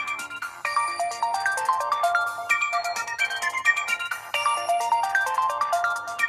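A bright melodic ringtone plays through the small built-in speakers of a Sony Xperia XZ2 phone, a repeating chiming tune at steady moderate volume, heard alone without talk.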